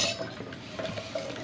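Light metallic clinks and scraping of a spoon stirring palm sugar, pandan leaves and salt inside a pot for bubur candil, steady and close, with no voices.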